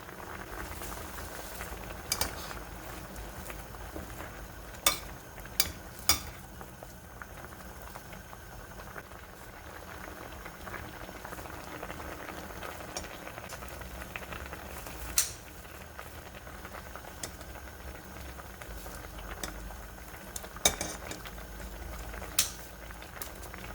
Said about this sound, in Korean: 김치가 이렇게 끓어오르고 있습니다